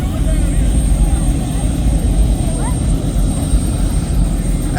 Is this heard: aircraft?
yes